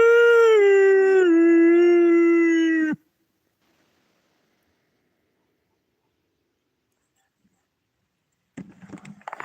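A person gives a long, loud, close howl with a rising then steady tone, imitating a dogman call in the woods; it cuts off into near silence, followed later by faint rustling or handling noise.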